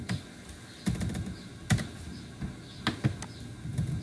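Typing on a computer keyboard, a run of light clicks and taps in uneven bursts with several sharper keystrokes, close by and alone.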